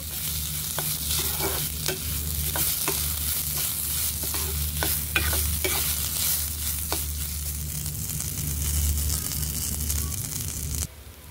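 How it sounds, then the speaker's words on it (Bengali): Washed rice frying in a pot with cumin, garam masala, cardamom and bay leaf, a continuous close sizzle broken by repeated scraping stirs and a low background hum, ending in a sudden cut. "এখন ধুয়ে রাখা চাল এর ভিতরে দিয়ে দিচ্ছি"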